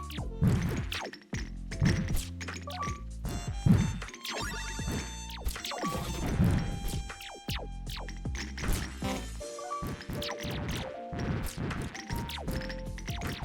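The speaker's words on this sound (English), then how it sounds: "Look at how much explosion the mines do now." Mines explode one after another in the video game Nodal Bastion, giving repeated loud crashing bursts and thumps mixed with sharp impact hits and busy game effects.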